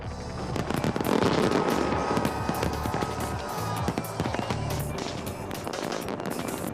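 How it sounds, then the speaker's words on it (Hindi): New Year fireworks over the River Thames in London burst and crackle continuously, a dense barrage of pops and bangs echoing from a distance. "टेम्स नदी के किनारे जमकर आतिशबाजी छूटने लगी"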